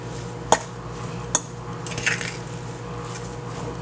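Cheese is stirred into green banana cou cou in a pot, a spoon giving two sharp clinks against the metal and a soft scraping, thick-food stir, with no talking over it.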